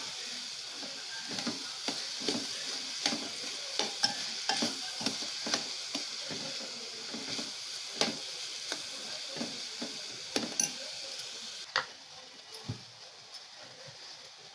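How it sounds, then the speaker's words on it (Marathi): A sweet turmeric-leaf mixture is stirred in a pan, with a soft continuous sizzle under repeated scraping strokes of a spoon at an even rhythm, fairly quiet and close. "त्यांना आपण व्यवस्थित मिक्स करून घेऊया।"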